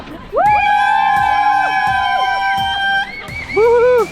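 Spectators line the Ljubljana marathon course, cheering loudly and continuously, with long wavering horn-like tones sounding over the crowd noise.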